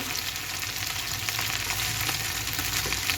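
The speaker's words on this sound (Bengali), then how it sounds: "এই তো মাছ ভাজিটা হয়ে গেল।" Tilapia fish pieces frying in hot oil in a pan, a steady, dense sizzle and crackle running continuously throughout at close range with no voices.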